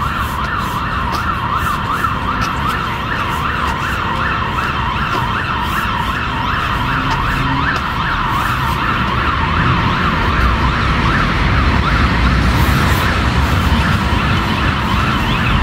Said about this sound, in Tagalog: May dumaan na fire truck.